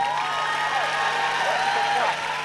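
Loud, steady applause and cheering from an audience at a university welcome event for academic advisers and students, a continuous wash of clapping and whoops with voices mixed in.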